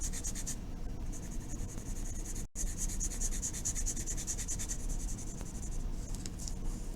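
Graphite pencil shading on paper for a value scale, a steady close scratchy rubbing that runs continuously with a brief break, no talk.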